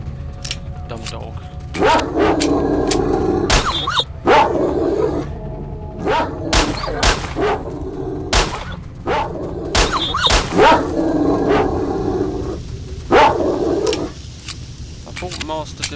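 Dog barking in the video game Stalker Shadow of Chernobyl, a series of loud, sharp barks in irregular bursts, with voices talking over and between them.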